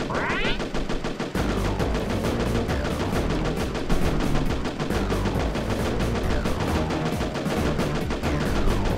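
Rapid, continuous weapon fire in the video game Heavy Weapon, battleship energy cannons and homing missiles, dense rattling bursts and electronic blasts layered over a game soundtrack, loud and unbroken.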